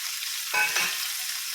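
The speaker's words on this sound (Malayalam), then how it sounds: "അതിലേക്ക് നമുക്ക് സബോള അരിഞ്ഞതും, ഒരു സബോള അരിഞ്ഞതാണ്, 2-3 വെളുത്തുള്ളി, ഒരു തക്കാളി," Chopped onion, garlic and tomato dropped into a hot frying pan, a sudden burst of sizzling that swells briefly and settles into a steady hiss, close and alone.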